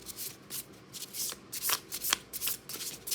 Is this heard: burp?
no